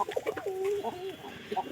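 Pigeons kept in a coop give low, rolling coos, several overlapping calls close by that swell and fall across a couple of seconds, with no talking.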